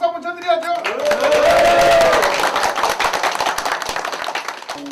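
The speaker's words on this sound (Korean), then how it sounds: "홍희덕 의원님, 우리 이렇게 동지들 모였으니까 이 방에서 힘내시고 열심히 하시라고 박수 한번 쳐드려야죠" A gathering of union comrades applauds lawmaker Hong Hee-deok, a former street sweeper elected for the Democratic Labor Party, with a burst of dense, close clapping that rises over a voice and stays busy for several seconds.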